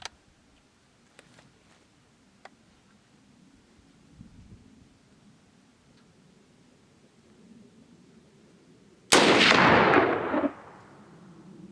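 A 111-year-old rifle fired down range: a single loud, sharp shot bursts out near the end after a long stretch of quiet, faint outdoor background, its report decaying over about a second.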